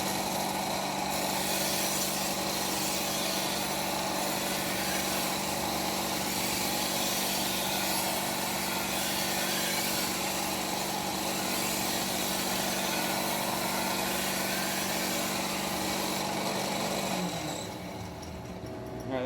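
A steady, continuous grinding whine runs for about 17 seconds as a large Taiwan tuna knife of high or medium carbon steel is rounded down on a power grinder, then drops off sharply at the end.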